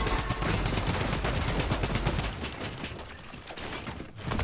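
Rapid automatic gunfire in Fortnite, a dense loud stream of shots for about two seconds, then scattered bursts and mechanical clatter in a busy game mix.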